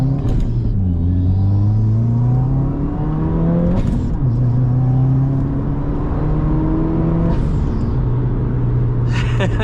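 A car running a Cobb NexGen Stage 2+ tune pulls out and accelerates hard to pass a WRX, engine note climbing through several gears with distinct shifts, loud and steady from inside the cabin.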